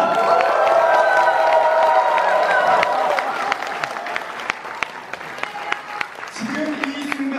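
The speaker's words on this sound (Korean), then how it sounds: "큰 박수와 환호 한번 부탁드립니다" Wedding guests at a Korean ceremony applauding and cheering as the groom enters, loud dense clapping with whoops for about three seconds, then thinning to scattered claps as a voice begins over the fading crowd.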